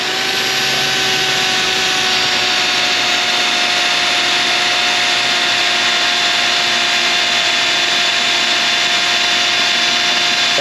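A power drill bores out a part on an Infiniti FX35 3.5 with a VVT fault, giving a loud, continuous, steady whirring grind that holds unbroken throughout with no voices.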